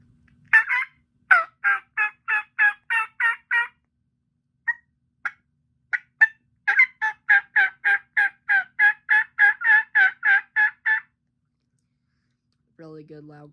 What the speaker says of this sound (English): Really good loud call. I like a call that has a good balance of rasp and kind of clarity